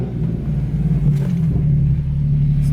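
Nissan 370Z Nismo fitted with a full Tomei exhaust, its engine running with a loud, steady low rumble that stays close and holds level throughout without any sharp rev spikes.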